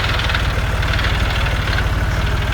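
A tractor engine idling close by on a farm, a loud, steady low rumble with a fast, even chugging pulse and no talk over it.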